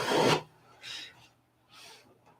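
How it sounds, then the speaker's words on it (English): Sandpaper dragged across wood in three separate rasping strokes, close and fairly loud, each a short scratchy swipe followed by a quiet pause. "And I'm drawing with sandpaper."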